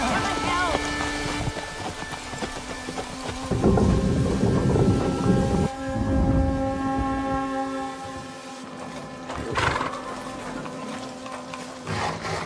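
Heavy rain and rolling thunder of a storm in a medieval drama, a steady loud downpour with deep rumbles swelling midway and a sharper crack near the end, voices occasionally heard beneath.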